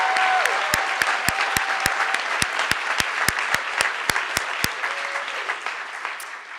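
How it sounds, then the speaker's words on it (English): Audience at a graduation recognition ceremony for bachelor's program adults and transfer students clapping in a large hall, with sharp loud claps standing out near the microphone over the wider crowd, fading toward the end. "can we have yet another round of applause?"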